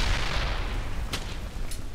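Enemy cannon fire in the WWII shooter Brothers In Arms: Hell's Highway: a deep rumbling boom and roll, followed by two sharp cracks of gunfire a moment apart.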